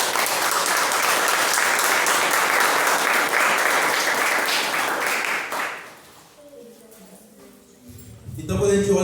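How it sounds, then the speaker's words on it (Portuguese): A church congregation breaks into loud, sustained applause for several seconds, then the clapping fades out and a few faint voices and a low sound follow. "E é para essa oração que eu salva de palmas."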